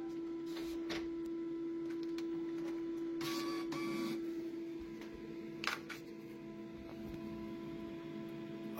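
A label printer runs with a steady mechanical hum and a few brief whirring and clicking bursts as it feeds and prints a label, close and moderately quiet with no talk.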